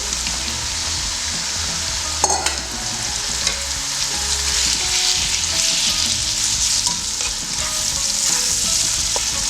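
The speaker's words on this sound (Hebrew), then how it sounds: "הבצל נהיה שקוף, וזה בדיוק מה שאני צריך" Onion for a Moroccan tagine sizzles and fries steadily in a pan, a continuous close hiss with occasional stirring clinks and scrapes, no voices.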